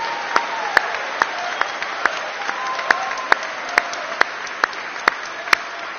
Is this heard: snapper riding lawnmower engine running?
no